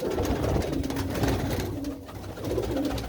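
Racing pigeons in a loft coo in repeated low throaty phrases, close and steady, several birds overlapping without any voices.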